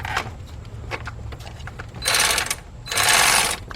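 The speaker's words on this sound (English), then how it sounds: "I've got a 15mm shallow socket, 3/8 drive for my cordless impact" Cordless impact wrench with a 15mm shallow 3/8-drive socket on a Chevy Equinox engine during a head gasket job: two short, loud rattling hammering bursts after some faint clicking and handling noise.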